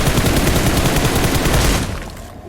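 Rapid automatic gunfire from a PUBG Mobile match in the pharaoh-themed ancient mystery mode, loud and continuous bursts for about two seconds before cutting off.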